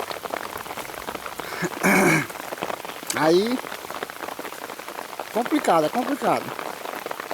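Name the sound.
rain falling out of season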